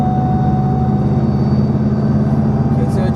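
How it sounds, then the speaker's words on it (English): Loud steady cabin drone in a 1998 Subaru Impreza WRX GC8 with a thin, high straight-cut gearbox whine running constantly over the engine rumble. "The straight cut gears explains the whine that you're hearing."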